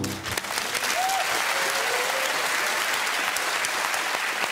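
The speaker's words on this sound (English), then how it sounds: "Stop clapping." Studio audience clapping fills the room after someone struggles to eat raw spaghetti as part of a sculpture task on a comedy panel show, a dense, steady wash of applause that holds at full level throughout without fading.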